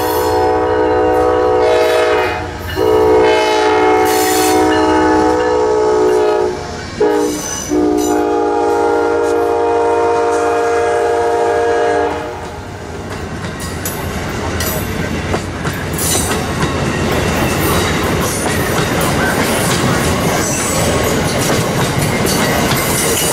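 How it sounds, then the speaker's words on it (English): A northbound Amtrak 280 passenger train passes near Selma, North Carolina. Loud horn blasts sound first, then the close rumble and clickety-clack of the cars rolling by. "there goes Amtrak 280,"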